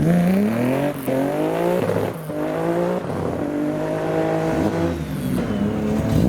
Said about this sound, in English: the naturally aspirated manual Mark IV Supra, sounding loud